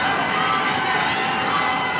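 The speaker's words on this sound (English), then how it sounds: "This crowd is loud." Loud basketball crowd at a Norwood vs St. Bernard-Elmwood Place boys high school game, a steady dense roar of cheering and shouting filling the whole two seconds without a break.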